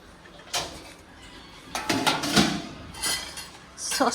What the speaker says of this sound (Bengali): সাজিয়ে দিচ্ছে থালাগুলো একটা একটা করে